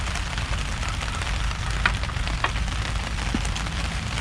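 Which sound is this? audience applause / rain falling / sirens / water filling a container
rain falling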